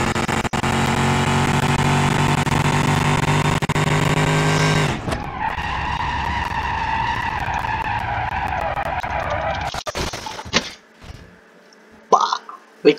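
A car in a BeamNG.drive drag race revs hard and screams at full throttle for about five seconds, then drops to a rougher, lower engine note and sputters out with a few scattered clunks near the end.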